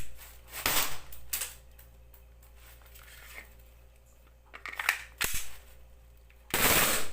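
A faulty airsoft Glock gas pistol that fires full auto when set to semi lets off several short, sharp bursts of rapid snapping shots, close and loud, separated by quieter handling noises.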